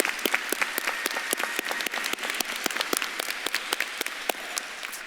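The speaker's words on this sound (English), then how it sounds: "Please join me in applause again to recognize Dr. Kramer's many contributions and unwavering commitment to the school." Audience at the VCU School of Social Work commencement in May 2024 applauds a retiring faculty member, producing sharp, fairly steady claps that continue for about five seconds in a large hall.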